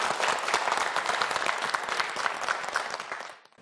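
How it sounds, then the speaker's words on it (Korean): Dense applause from a TV quiz show studio audience, steady and lively for a few seconds before quickly fading out at the end. "박수 보내주세요"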